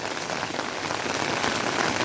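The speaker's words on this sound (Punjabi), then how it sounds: "ਮੀਂਹ ਨੂੰ ਜਲਦੀ ਜਲਦੀ ਬੰਦ ਕਰ ਦੇ ਵਾਹਿਗੁਰੂ ਬੰਦ ਕਰ ਦੇ" Heavy rain pours down steadily on surfaces, a dense and loud hiss of drops that carries on unbroken with no voices.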